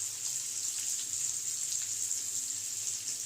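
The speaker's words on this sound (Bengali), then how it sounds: "দুপাশ একটুখানি ফ্রাই করে নিচ্ছি, যাতে করে ইলিশ মাছটা মানে ভেঙে না যায়" Hilsa fish pieces lightly frying in a pan give a steady, soft hiss with fine crackle that holds evenly throughout, close by and moderately quiet, with no voices.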